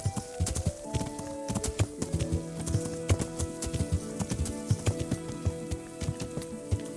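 A horse trots along in Kingdom Come: Deliverance, its hooves striking in a brisk, even clip-clop rhythm, near and prominent over a light background.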